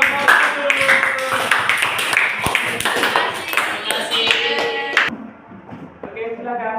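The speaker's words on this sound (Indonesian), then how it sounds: "kita beri tepuk tangan untuk kelompok 1" Classroom applause for the first student group after their presentation, busy overlapping clapping with voices and chatter running through it, cutting off near the end as talk continues.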